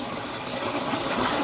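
Flowing water drives a small mini hydro generator, a steady close rushing and gushing sound with no voices.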